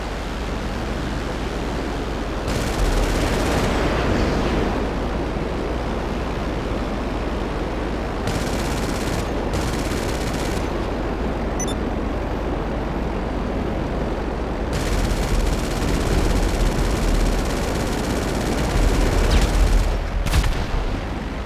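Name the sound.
gunfire in video game GTA Online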